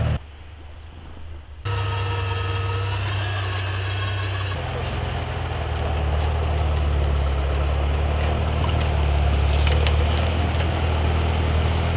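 Two Lada Niva off-road cars drive across ice on a frozen lake, their engines a steady low drone that jumps in loudness early on and keeps grinding along for the rest of the stretch, with a voice briefly audible.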